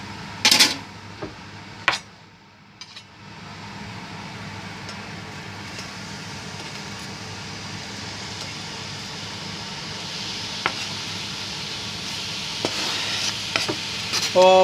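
Onions going into a pan for Goan prawn pickle, with a few clanks at first, then a continuous soft frying sizzle and occasional stirring scrapes, no talking.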